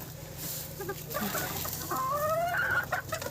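Small bantam hens clucking close by in a backyard coop, a steady stream of soft clucks and rising squawky calls layered over one another with low farmyard background noise.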